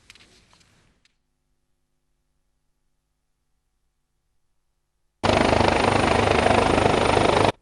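After a few faint clicks and a long silence, a loud helicopter suddenly starts up, its rotor thumping steadily and close for the remaining seconds.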